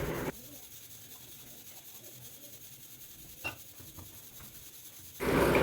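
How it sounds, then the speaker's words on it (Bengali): Wheat flour dough kneaded by hand, soft quiet rubbing and pressing with an occasional light tap, close and faint against low background hiss. "চলো আটাটা মেখে নিই"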